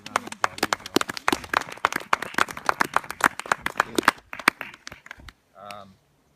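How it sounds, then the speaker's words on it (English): Mourners at a memorial service give a round of applause, loose, individually distinct hand claps in an uneven rhythm that thin out and stop, followed by a brief voice. "that deserves a round of applause"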